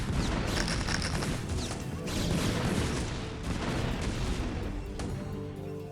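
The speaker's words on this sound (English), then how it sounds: "Vulture, siege tanks, fighting here." Vultures and siege tanks battle in StarCraft: Brood War, a dense, continuous barrage of gunfire, cannon blasts and crashing impacts layered over each other, loud and sustained for the whole stretch.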